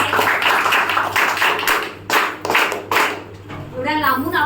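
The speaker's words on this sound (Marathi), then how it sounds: "तर सगळ्यांनी टाळ्या वाजवून त्यांचं चांगल्या प्रकारे स्वागत करायचं आहे" A gathering at a school kit distribution claps to welcome a guest, bursts of nearby hand clapping in uneven waves with short gaps, a voice briefly heard near the end.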